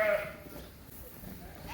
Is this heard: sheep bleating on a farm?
yes